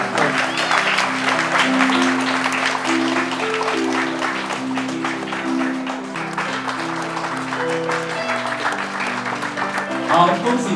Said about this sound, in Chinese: OK， 我们给他一个掌声。